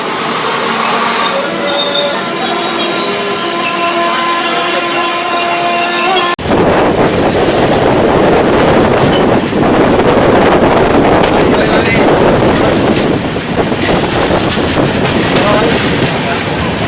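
The Kamakhya-Puri Express passenger train runs on rails, loud and close. Steady rumbling and rattling of the cars fills the clip, with wind noise throughout and a sharper burst of wheel noise partway through.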